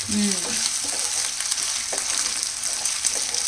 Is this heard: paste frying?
yes